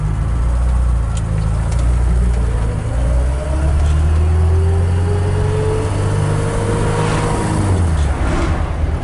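A 1975 BMW 2002 drives along on a test drive, its engine droning steadily and close with gear-change pitch sweeps, tire and road rumble continuous throughout.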